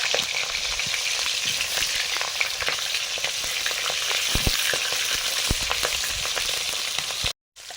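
Potato pieces fry in hot oil for gota chorchori, a steady close sizzle with crackles and occasional stirring clatter, running continuously before cutting out abruptly near the end.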